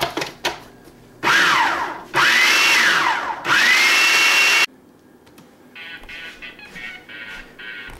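A food processor blends a peanut butter pie filling with vanilla extract in three loud whirring bursts separated by short pauses, followed by quieter clattering and handling sounds.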